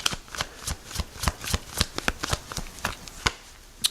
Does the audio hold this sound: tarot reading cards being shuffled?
yes